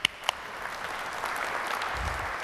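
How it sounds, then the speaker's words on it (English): Audience applause in a session at a Microsoft tech conference, steady moderate clapping from a room of attendees after two sharp initial claps, sustained without speech. "give him a round of applause."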